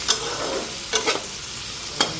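Food fries in a pan with a steady hiss, broken by a few sharp clinks of a spatula stirring, close and fairly loud with no voices.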